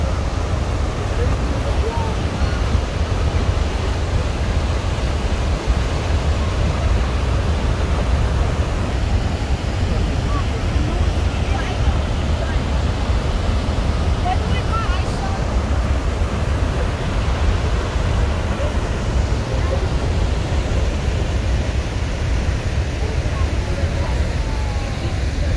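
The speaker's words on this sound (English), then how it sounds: "we're so close to the waterfall" A steady, dense roar of rushing water from Niagara Falls, heard from a boat, fills the whole clip, broad and constant, with faint voices mixed in underneath.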